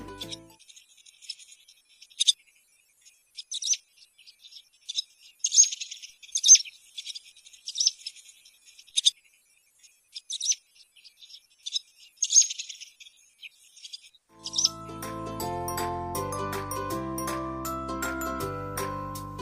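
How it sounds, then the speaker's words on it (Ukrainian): A swallow twitters in bursts of bright, high chirps and trills separated by short pauses, fairly close, for most of the stretch before a jingling melodic tune takes over near the end. "Послухаймо пісеньку ластівки."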